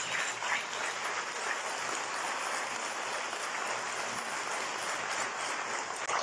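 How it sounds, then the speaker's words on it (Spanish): A crowd at a formal government ceremony applauding newly elected mayors, dense continuous clapping that holds at steady strength from start to finish with no talking over it. "para que reciban un fuerte aplauso."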